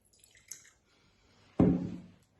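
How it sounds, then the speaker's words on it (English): A small drop of wine poured into a clean glass: a faint clink, then a short splash and trickle lasting under a second, close and alone with no talk. "First of all, I'm going to pour a little drop."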